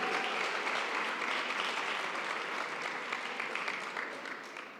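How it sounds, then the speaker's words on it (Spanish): Audience at a municipal sports recognition ceremony applauds elite athletes, a dense, steady wash of clapping from a sizable crowd heard at a distance, slowly fading toward the end. "Les damos un fuerte aplauso, este primer aplauso para toda la categoría de élite."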